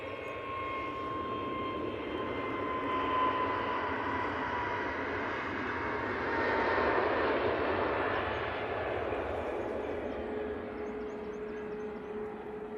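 An EasyJet airliner on its takeoff roll at Manchester Airport gives a steady, distant roar of jet engines with a faint whine. The roar swells gently midway and holds without a break.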